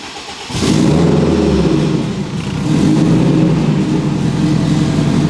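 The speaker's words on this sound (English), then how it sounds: "Hop in the car, go ahead and fire it up." A car engine cranks and catches, then revs loudly, dips briefly and rises again into a strong, close engine roar.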